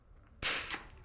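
A single sharp rimfire rifle shot at a precision rimfire match, a loud close crack followed a beat later by a faint ring of the round striking a steel target.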